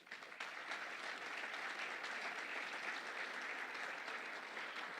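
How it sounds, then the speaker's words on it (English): Steady crowd applause from an audience honoring a local coach at a downtown community event, sustained and fairly loud throughout with no gaps. "So round of applause for him, please."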